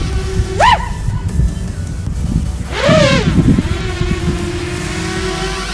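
Electric motors on a homemade rocket-copter drone spin up for takeoff in two sharp bursts, each a rising whine that peaks and falls away, followed by a steady lower hum.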